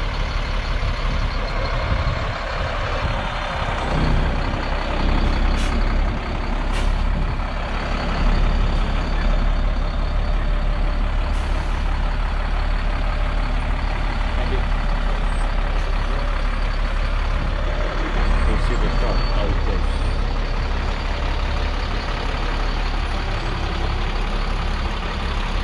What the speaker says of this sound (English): how to control your trailer when you're backing up